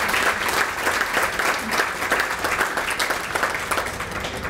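Sustained audience applause at a retirement reception honoring the class of 2018 retirees, dense and steady clapping that fills the room for several seconds without a break.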